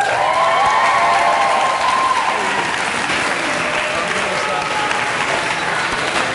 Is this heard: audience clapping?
yes